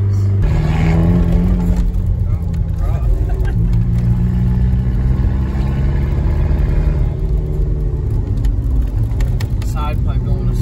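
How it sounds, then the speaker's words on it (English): A Saab 9-3 SE engine rumbles loudly and steadily, its pitch rising and falling as it revs, with a whirring turbo note over the low drone. "Listen to that turbo."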